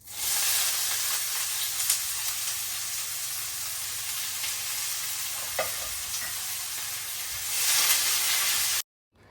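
Chopped onion frying in a pan of hot oil with bay leaf and cumin, a steady close sizzle and hiss running throughout, with a few stirring clinks and a brief louder burst near the end before it cuts off.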